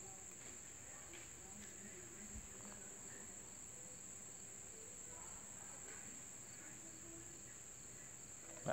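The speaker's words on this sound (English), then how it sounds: "There's a cricket right behind you." A cricket chirps steadily and continuously in an outdoor evening setting in Sylva, North Carolina, a high, even trill that runs throughout at a faint, constant level.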